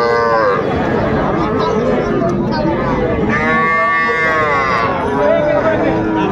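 Cattle, young bulls and heifer calves, moo repeatedly at Ambari livestock market in Dinajpur, loud and close, with the crowd's chatter running underneath throughout.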